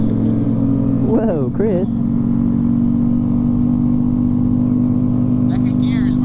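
A motorcycle doing wheelies in second gear holds a steady, loud engine drone throughout, with rising revs near the start while people shout and talk over it.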